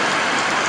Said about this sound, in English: it seems like it finally started raining at 1 o'clock today in Roatan